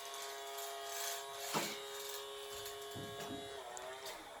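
A Miele toy electric vacuum cleaner runs with a steady, high-pitched electric whine and buzz, close by, with a few soft bumps and rattles as it is moved around.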